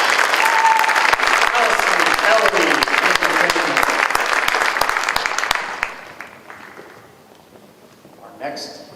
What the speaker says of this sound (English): Round of applause for these three seniors.